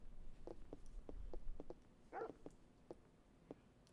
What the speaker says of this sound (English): I'll introduce you to the best police dog in town.